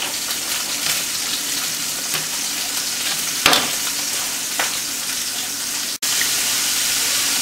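Lamb chops browning in a pan give a steady, loud sizzle and hiss of frying that continues unbroken, with a brief sharper crackle midway and a short break near the end.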